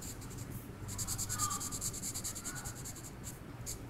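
An ink pen scratches across printer paper in quick, rhythmic strokes, a close, crisp scribbling that pauses briefly between lines.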